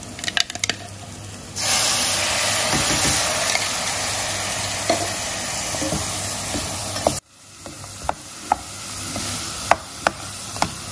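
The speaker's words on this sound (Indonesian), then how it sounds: "Ini kita tumis sampai harum" Blended spice paste with lemongrass, bay leaves and galangal for soto betawi sizzles steadily in a pan, with scraping stirs and clinks of a utensil, then the frying quiets and sharp taps continue.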